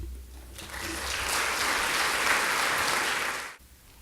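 An audience at a church graduation service applauds the graduates, a dense wash of clapping that swells, holds steady and then cuts off abruptly near the end.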